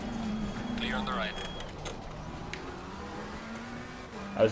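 Race cars from Assetto Corsa Competizione howl along the Zolder circuit with a continuous engine drone, as a rival car sweeps past close by with a whooshing rush, under a person talking, ending in a short sharp spike.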